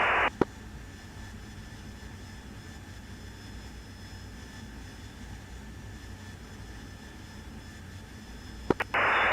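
A Corsair aircraft flies in over a combat zone in a video game. It makes a steady, moderate engine drone that holds for the whole stretch, with a few sharp clicks near the start and end and no talk.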